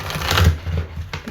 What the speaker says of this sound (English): I will put them back and shuffle again